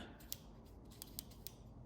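Selector dial on a Nebo Davinci 1000 rechargeable pocket torch clicking through its settings, four or five small sharp clicks spaced irregularly, close and fairly faint over a quiet background.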